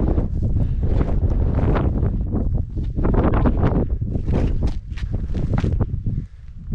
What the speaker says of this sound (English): It is super windy up here though.